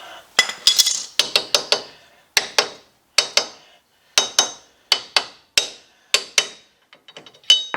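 A ratchet with a 6-point socket tightens the bolts on a 1993 Chevy pickup's front hub assembly, giving about a dozen sharp, close metallic clicks in quick bursts with short pauses between.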